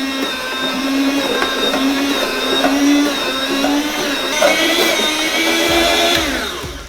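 A home meat slicer machine cuts through frozen meat, a steady loud motor whine with grinding blade tones running continuously throughout, with a brief heavier knock near the end.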